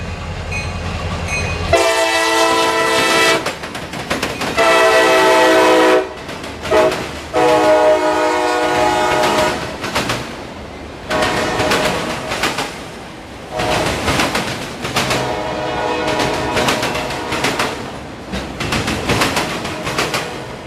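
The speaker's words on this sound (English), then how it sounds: "this would be anybody's first catch in a long time of Autoracks going through Plant City on the" A long freight train hauling autorack cars rolls through Plant City, Florida, with several loud, drawn-out horn blasts near the start followed by the steady rumble and clatter of the passing cars.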